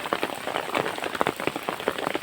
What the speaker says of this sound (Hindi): जब से रोड बनाया तब से भगवान बारिश करे जा रहा है, बारिश ही नहीं रुक रही है